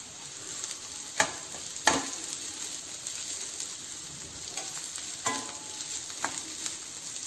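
Sliced green chillies fry in a pan with a steady, quiet sizzle, broken by a few sharp scrapes and knocks of a spoon stirring them; no one speaks.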